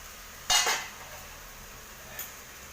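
A metal lid lifts off a pot of simmering kaathoran, a Kerala vegetable curry, giving one sharp clatter followed by a short scrape and a faint second clink, close by in an otherwise quiet kitchen.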